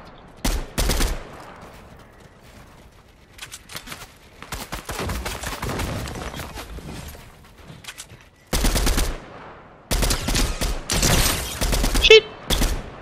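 Fortnite gunfire crackles in loud, rapid bursts and volleys, with short pauses between clusters of shots and brief gaps of near-quiet.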